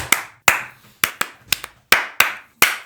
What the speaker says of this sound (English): If I'm sitting in the right chair, I do the clap.